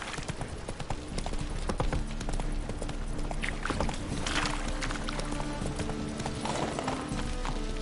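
Roach, Geralt's horse in The Witcher 3 video game, gallops at a steady hoofbeat rhythm, the clip-clop running continuously and fairly close under layered game ambience.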